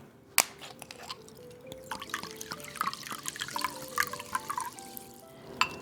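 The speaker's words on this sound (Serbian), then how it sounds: "U drugu činiju stavit ću 100 ml ulja" Oil and sparkling mineral water pour into a bowl for a quick filo-pastry pie, a run of close, bright trickling, dripping and splashing sounds that shifts in pitch as the liquid settles, with no speech.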